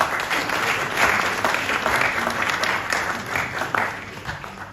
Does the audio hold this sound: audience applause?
yes